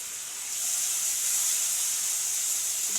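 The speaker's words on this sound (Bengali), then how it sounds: "ভালো করে ভেজে নেব মশলাটা।" Turmeric and Kashmiri chilli powder fry in hot oil in a pan, making a continuous close hiss and sizzle that swells slightly after the start.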